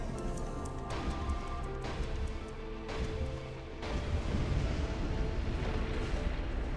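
Explosions rumble in Dark Souls 2, a series of deep booming blasts with crackling debris, building into a sustained roaring rumble, moderately loud without talk.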